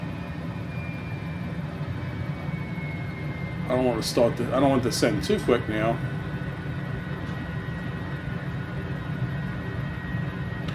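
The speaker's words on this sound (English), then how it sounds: "we'll get this helicopter landed" A Mini-500 helicopter descending to land on Easter Island gives a steady, droning rotor and engine hum throughout, with someone talking briefly over it partway through.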